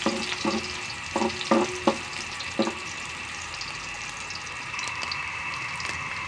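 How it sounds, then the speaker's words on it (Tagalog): Onion, garlic and three chilies sauté in a pan with a steady sizzle, broken by a few spoon-stirring clatters early on, then settling into continuous frying. "tapos gigisayin na natin yung sibuyas, bawang, kasama yung 3 sili"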